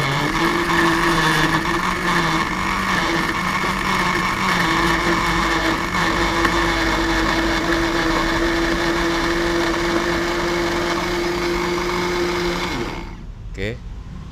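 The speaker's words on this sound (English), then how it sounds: "This blender, press this one," A blender making pear juice runs loud and steady with a constant droning whine, then cuts off near the end, leaving a brief rattle.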